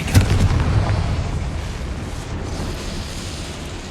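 One fiery spell explosion in the Hogwarts Legacy video game, a loud close boom at the start that rolls off into a long, fading rumble.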